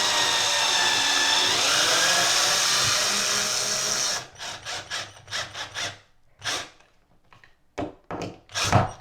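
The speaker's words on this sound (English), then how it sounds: "I'm just going to screw this in the wall" A power drill drives a screw straight into a sheetrock bathroom wall for a towel hook, giving a loud continuous whir for about four seconds, then a series of short stuttering bursts as it seats, close by.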